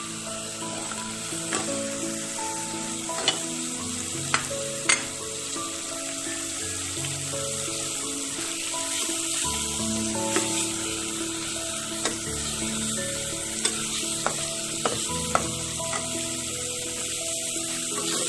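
Dry spice mix for an Indian-style dal sizzling in hot oil over low-to-medium heat, with a steady close frying hiss and occasional clicks of stirring throughout.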